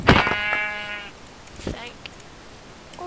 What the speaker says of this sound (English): Ooh, another